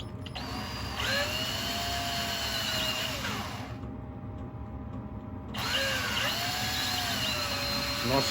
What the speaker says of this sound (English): Remember, it's acrylic, it doesn't tend to drill so much, it tends to melt if you're not careful.